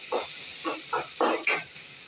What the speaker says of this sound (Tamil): ரெட் கேப்சிகம், அதை போட்டுருவோம். அது லைட்டாக வதங்கினா போதும்.